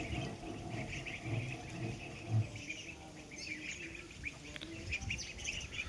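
Chinese and Khaki Campbell ducks on a farm give faint, scattered quacks and chirps, heard at a distance in a quiet outdoor setting.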